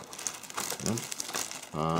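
Plastic bag holding 1996 decals for an older Academy 1/48 Spitfire Mk.XIVc model kit crinkles close up in a short handling burst, with soft rustles then a louder tonal buzz at the end.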